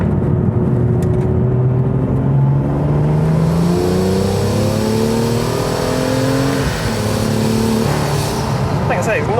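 A BMW M2 accelerates hard through the gears, its engine revving up in rising sweeps with brief shifts between them, loud and close from inside the car.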